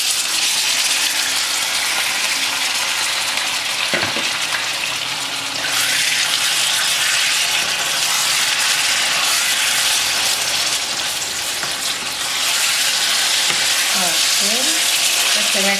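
Beef pieces dropped into hot oil in a pot for a beef and potato stew, a loud continuous close sizzle with a couple of brief dips and faint scraping.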